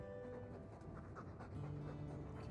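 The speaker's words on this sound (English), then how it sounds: "All that noisy dog breath, day in, day out." Rapid, rhythmic dog panting from a video game, steady and close, running for a few seconds with a faint tonal background underneath and no talking.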